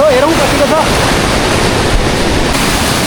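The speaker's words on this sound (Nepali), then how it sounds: "यो ठुलो पानी उता बगिरहेको छ" Rushing river water flowing in a Nepali stream, a loud, close, continuous broadband wash with turbulent low rumble and a brief voice at the start.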